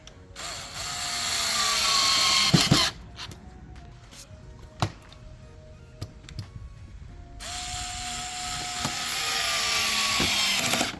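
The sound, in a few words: screwing in a corner brace on a photo frame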